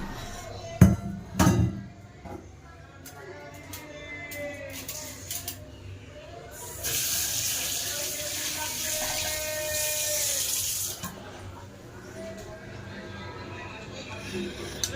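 Boiled Maggi noodles and their cooking water pour out of a pot, making a loud rushing splash for several seconds after a few clanks of cookware. A person talks before and after the pour.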